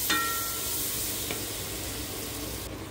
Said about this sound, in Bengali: মশলাগুলো ভালোভাবে কষিয়ে তারপর মাংসগুলো অ্যাড করে দিব।